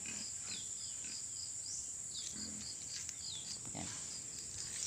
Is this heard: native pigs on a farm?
yes